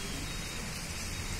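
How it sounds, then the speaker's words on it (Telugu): Heavy rain falls at night in Hyderabad as a steady, even hiss that holds unchanged throughout, fairly soft and with no voices. "ఈరోజైతే ఫుల్ వర్షం అయితే పడుతుంది"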